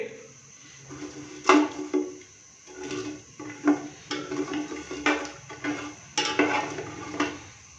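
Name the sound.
whole cumin and black pepper roasting in oil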